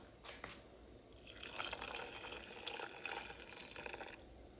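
Coconut milk is poured into a pot of peas for Jamaican rice and peas. It makes a soft, liquid pouring and splashing sound that lasts about three seconds. The sound is faint and close, with no voices.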